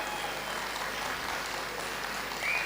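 An audience at a business-plan seminar claps continuously, a steady wash of applause that swells slightly at the end, with no speech over it.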